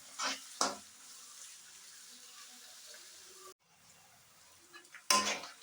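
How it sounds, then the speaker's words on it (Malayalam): Onions with green chillies sautéing for a Kerala beef roast, giving a low steady sizzle broken by a few louder scraping stirs near the start and again at the end, with a brief quiet gap in between. "നല്ലോണം ഒന്ന് വഴണ്ട് വരണം. അതുവരെ നമുക്കിതൊന്ന് ഇളക്കിക്കൊണ്ട്"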